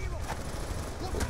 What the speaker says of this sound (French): Qu'est-ce qui tire là?